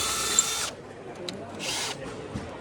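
A power drill bores into tile in two bursts: a harsh, loud, grinding whine, a short pause with faint low noise, then a briefer second burst.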